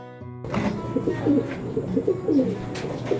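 Pigeons coo repeatedly in soft, bubbling calls close by during a pigeon toss, over a faint background hum with no talking.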